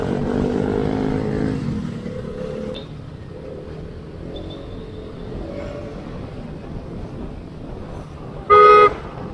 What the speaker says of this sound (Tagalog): Oh, medyo lumakas yung busina ko ha.